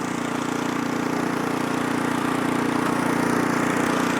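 An Ariens Deluxe 24 snow blower engine runs steadily in reverse gear, a constant mid-pitched mechanical drone with no pauses, heard close by.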